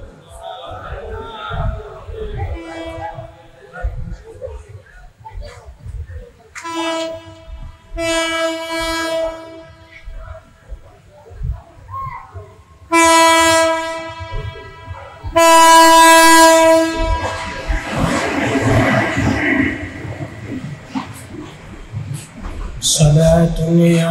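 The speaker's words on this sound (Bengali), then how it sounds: "ট্রেন আসতেছে, ট্রেনের লাইন থেকে সরে যান, ট্রেন আসতেছে" A train approaching and passing, with several long horn blasts in separate bursts over a low rumble of wheels and cars. Voices can be heard in the background.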